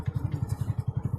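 A motorcycle on a village road idles or rolls slowly, its engine thumping in an even, rapid pulse, close and steady for about a second.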